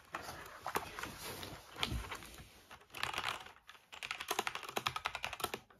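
Typing on an Azio mechanical keyboard made for the Apple iMac, with close, crisp key clicks in irregular bursts and a faster flurry toward the end, with no talking.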